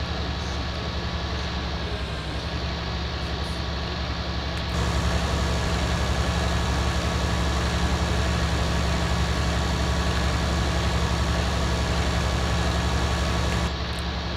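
A large tractor engine idles steadily in Farming Simulator 19, a constant low drone that holds alone with no talk and grows slightly louder partway through.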